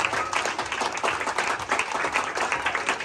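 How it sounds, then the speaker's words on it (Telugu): An audience breaks into applause at a family event, a short burst of dense, rhythmic clapping from many hands, loud and near, with no voices over it. "big clap"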